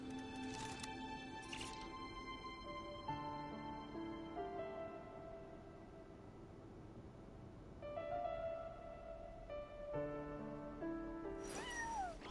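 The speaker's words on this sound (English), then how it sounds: "Why does Ashru sit up on the counter? To welcome our clients, of course. A kitty's gotta earn his kibble somehow." A cat meows and caterwauls in the Genshin Impact video game, with long drawn-out cries repeated over a steady background of soft game music, with no talking.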